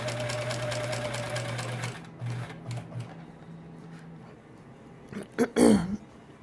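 Sewing machine stitching quilt fabric for a sampler block, a steady fast mechanical whir for about two seconds, followed by short stop-start bursts and a few clicks and handling noises.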